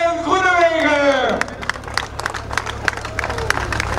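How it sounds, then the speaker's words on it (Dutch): A roadside crowd at the 2016 Profronde Almelo cycling criterium applauds a cyclist. Someone speaks first, then scattered sharp claps and crowd murmur follow at moderate distance. "En we gaan een applaus laten horen voor Dylan!"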